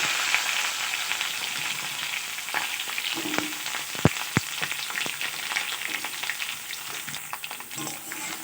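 Drumstick stems dropped into hot oil already tempered with nigella seeds and dried red chili, giving a steady broad sizzle with a few sharp clacks and scrapes of the stems hitting the pan, no voices.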